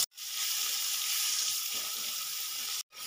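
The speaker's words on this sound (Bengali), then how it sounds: "এই আদা রসুন টমেটো আমি একসাথে ভালো করে 2 থেকে 3 মিনিট কষিয়ে নেব" Ginger-garlic paste and tomato sautéing in a pan, a loud continuous close-up sizzle that runs unbroken for nearly three seconds between brief pauses.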